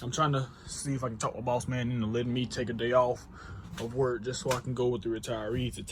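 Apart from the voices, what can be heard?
No everyday noise stands out behind the speech.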